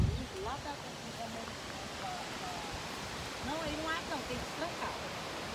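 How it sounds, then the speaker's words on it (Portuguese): A waterfall in Tocantins rushes in a steady broadband roar with no breaks, heard from a distance beneath birdsong. "Gente, chegamos nas cachoeiras,"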